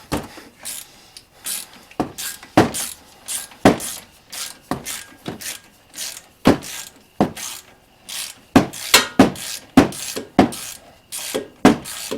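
A ratchet wrench cracks loose the front brake bolts on a Mazda 3, producing loud, close bursts of rapid clicking that repeat in irregular spurts with short pauses between, alone without talk.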